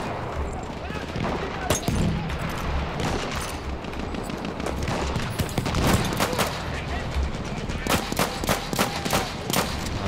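Rapid gunfire from the World War I shooter Battlefield 1 on an Italian front mission: dense, overlapping rifle and machine-gun bursts with scattered sharp shots and booms, sustained and loud across a chaotic battle soundscape.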